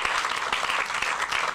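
Crowd at a Matteo Salvini political rally in Campobasso applauding, dense continuous clapping, loud and steady throughout the short burst.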